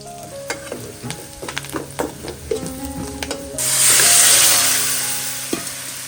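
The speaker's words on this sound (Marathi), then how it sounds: "फोडणी मस्त जबरदस्त बसते" Phodni tempering hits a hot pan with fried liver and a little turmeric, breaking into a loud, bright sizzle after a few seconds of light clinks and stirring, then slowly easing off.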